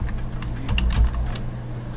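Close-up typing on a computer keyboard while entering a Linux command, with a quick, uneven patter of key clicks and no voices.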